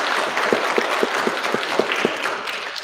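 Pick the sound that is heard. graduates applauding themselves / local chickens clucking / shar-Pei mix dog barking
graduates applauding themselves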